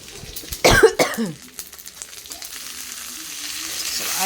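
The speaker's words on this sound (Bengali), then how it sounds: "একটু কারি পাতা, শুকনো লঙ্কা ফোড়ন দিয়েছি, আর আপনার কাঁচা লঙ্কা দিয়েছি, আর একটু কালো জিরা দিয়ে দেবো এবার" Curry leaves, dried red chillies, green chillies and nigella seeds hit hot oil with a sharp burst of sizzling and spitting, followed by coughing as the pungent fumes rise, then settling into a quieter, steady sizzle.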